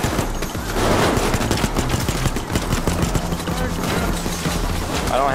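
Dense, sustained gunfire fills a Payday 2 firefight, rapid automatic bursts and overlapping shots rattling loudly and continuously throughout.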